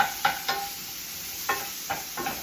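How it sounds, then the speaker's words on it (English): Squash being stirred and flipped in a pan for a summer salad, five or six distinct scraping strokes at an uneven pace over a soft constant sizzle, close and fairly quiet. "We're just gonna give this another Little stir."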